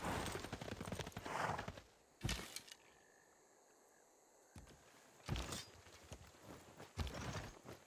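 Video game horse hooves clop in a few short bursts with quiet gaps between them, mid-distance, against a low ambient background with no talking.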